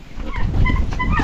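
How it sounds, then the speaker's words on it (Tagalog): A rooster tethered outdoors calls with a short, honking cry, fairly close and loud over a low rumble of background noise. "Manok ni Tatay Riot. Kaya tinali ni Tatay Riot dyan."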